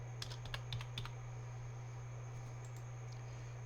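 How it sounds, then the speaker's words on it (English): Computer keys are tapped in a short quick burst, a few light clicks up close, then a couple of faint taps, set over a steady low electrical hum in a quiet room. "So type that into the cell."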